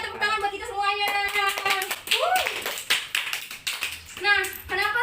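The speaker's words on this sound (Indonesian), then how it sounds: "Ya, tepuk tangan buat kita semuanya." A fourth-grade class in an Indonesian primary school claps hands together during a poetry lesson, with bursts of close applause mixed with a teacher talking before and after.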